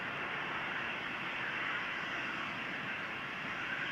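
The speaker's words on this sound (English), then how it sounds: "I hear the next KLM Embraer already to the right of me" A KLM Embraer jet on the runway at Amsterdam Schiphol Airport gives a steady, broad engine roar at moderate distance, holding level throughout with no voices.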